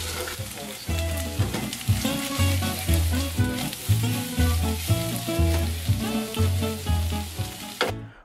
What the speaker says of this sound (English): Pop in a bit of oil, put it on a low heat, chuck in your tofu.